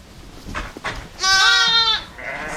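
Lambs and sheep in a lambing pen, one loud, close, quavering bleat lasting under a second after some softer rustling and shuffling.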